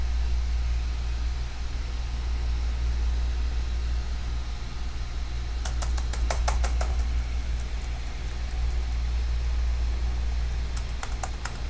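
A Dell Inspiron 17 5000 laptop runs noisily right after power-on, giving a steady broadband whir with a low hum, joined twice by brief bursts of rapid clicking.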